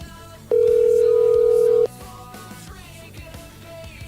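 A telephone dial tone from a bar and grill's phone system, one loud steady hum holding for just over a second and then cutting off, with music and clatter going on underneath.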